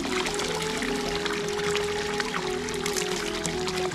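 Cold drinking water pours steadily into a vessel outdoors in a forest, a continuous close trickle and splash with a faint ringing tone running underneath.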